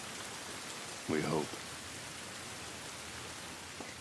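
Steady rain falls in the video game The Last of Us Part I, a constant soft hiss throughout with a brief spoken line over it.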